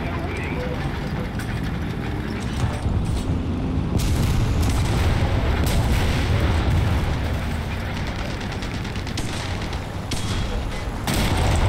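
War Thunder combat with booming cannon fire and gunshots, heavy thuds and blasts rolling continuously through a loud, dense battle mix, with players' voices talking over it.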